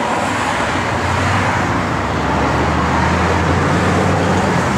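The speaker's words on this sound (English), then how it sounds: "it's got a cammed up 396. It really sounds good." A 1969 Chevrolet Chevelle SS with a cammed 396 V8, Edelbrock four-barrel carburetor and intake, and Hooker headers idles with a steady, loud rumbling drone throughout.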